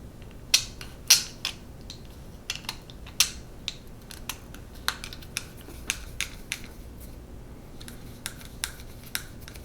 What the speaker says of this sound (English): We are going to put two 20mm M3 screws through these pieces into two small M3 lock nuts.